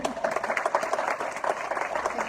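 An audience at the Mensa Fonds Awards 2023 ceremony applauds, a steady wash of many overlapping claps at moderate level, with a voice faintly mixed in.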